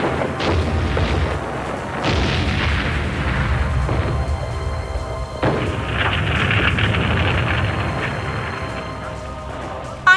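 Radio-drama war effects of artillery and explosions depicting the Japanese assault on Shanghai, a dense rumbling barrage of booms and crashes that continues without pause, with a sharp burst near the end.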